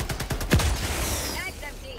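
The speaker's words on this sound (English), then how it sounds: "this guy has a machine gun." A short burst of rapid machine gun fire from a Helldivers 2 battle cracks out early, then fades into a softer, fluttering background of distant combat.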